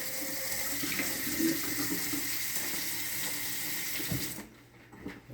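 Tap water runs steadily over raw pork ribs rinsed in a sink, a close continuous splashing hiss that cuts off near the end.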